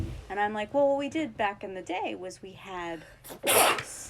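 A single sharp sneeze bursts out near the end, loud and close, right after a stretch of someone talking.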